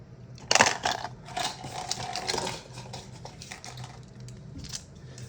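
Small screws and hardware for an RS3M V5 Ballcore MagLev puzzle cube drop back into a box, making a sharp close clatter followed by lighter rattles and shuffling of loose parts.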